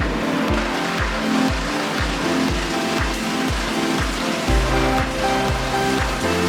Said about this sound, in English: Heavy-duty scrap plastic granulator crusher machine.